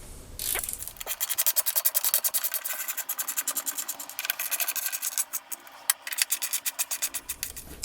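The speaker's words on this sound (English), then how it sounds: "And then I will tighten those bolts." Rapid rhythmic ratcheting clicks from tightening bolts on a BMW F 750GS topbox plate, close and fairly quiet, in steady bursts with brief pauses.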